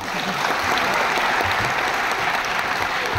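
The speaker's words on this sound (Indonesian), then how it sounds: "Bapak Ibu, mana tepuk tangannya?" An audience at a school Christmas holiday concert claps steadily and loudly, a dense, sustained round of applause with no talking.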